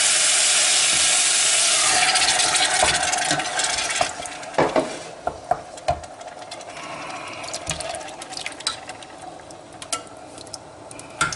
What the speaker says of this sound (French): Je verse ma tomate.